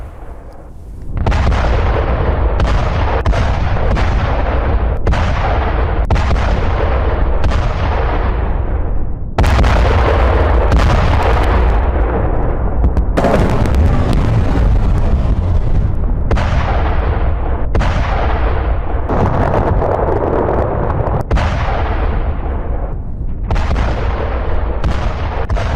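Explosions from rocket and artillery attacks in the Israel–Middle East conflict: a rapid series of loud, heavy booms with sharp onsets and rumbling decays, repeating every second or two, with a dense barrage around the middle and no talk.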